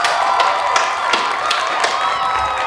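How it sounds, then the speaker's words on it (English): Applause and cheering from a community audience marking a five-year anniversary, with scattered claps and whoops rising over a steady crowd roar for the whole stretch, fairly loud and close. "Let's give them a big round of applause."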